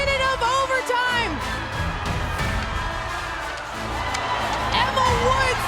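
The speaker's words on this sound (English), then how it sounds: "The crowd urging on Team Minnesota to victory here." A packed hockey arena crowd at a PWHL game between New York and Minnesota roars and whoops in a dense, sustained wall of cheering and shouting after an overtime goal, loud and continuous throughout.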